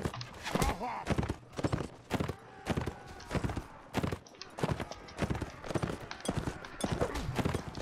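Horse hooves clip-clop in steady, fast repeated thuds during a castle siege in the Mount & Blade Warband video game, close and fairly loud, with busy battle noise around them.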